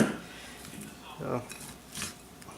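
Potatoes, green beans and corn with a little olive oil are stirred in a pan, giving a few soft scraping clinks of a utensil against the metal, with a brief rustle near the start and distinct scrapes around the middle and end.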